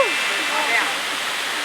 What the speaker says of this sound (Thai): น้ำตกตาดกวางซี